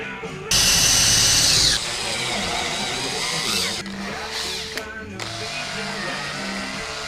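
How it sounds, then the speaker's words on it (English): A power drill bores and taps a threaded hole for an M3 screw while converting an old laptop panel into a monitor: a loud steady whine that drops in pitch partway, then continues with a lower, uneven grinding buzz. "I'm drilling and tapping it for an M3 screw"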